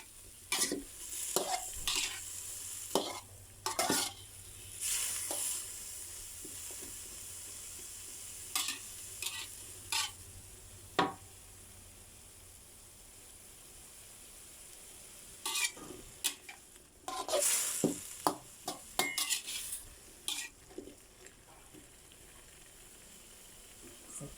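Pineapple with fried tofu is stir-fried in a pan, with a steady sizzle under repeated scraping and clacking of a utensil against the pan. The stirring comes in irregular bursts over a low frying hiss.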